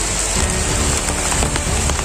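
Rain pouring down during a thunderstorm outdoors, loud and dense with drops drumming on surfaces, steady throughout with occasional sharper spatters and no speech.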